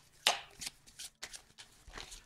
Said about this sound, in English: Let's pop out one card here